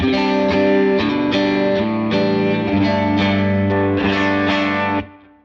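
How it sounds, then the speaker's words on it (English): Electric guitar through a Line 6 Helix light overdrive preset plays chords with a gritty edge, steady strums sustaining throughout before a quick fade at the end. "Light overdrive."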